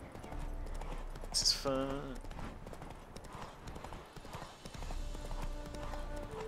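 Hooves of Roach, a horse in The Witcher 3, clip-clopping in a steady rhythm beneath game sounds, with someone talking briefly over them.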